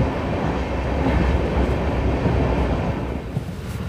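The Ahmedabad Sabarmati–Jammu Tawi Express rolls along the rails with a steady, heavy rumble and faint wheel clatter, heard continuously from close by.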